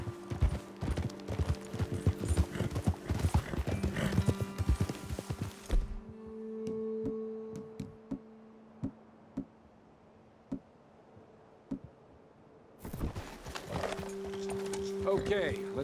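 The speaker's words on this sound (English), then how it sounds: "Okay, let's dismount here. Best leave the horses back a bit." Horses in Red Dead Redemption 2 trotting along a trail, steady rhythmic clip-clop hoofbeats that pause for a few seconds of quiet before resuming, with people talking over them.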